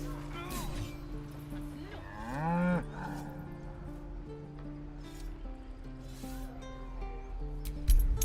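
An ox lowing in the fantasy role-playing game Baldur's Gate 3: one drawn-out, rising moo stands clearly over a steady game music bed, with no one speaking.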